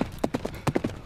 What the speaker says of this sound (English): Whoa, the horse is going really fast now.